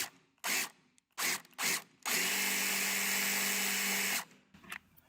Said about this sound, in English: Start by drilling out the screw.